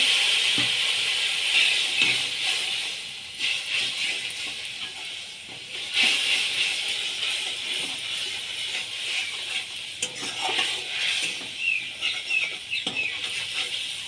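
Ground turmeric and coriander sautéing in a pan with a splash of water, a steady close hiss and sizzle with surges and soft stirring scrapes, no voices.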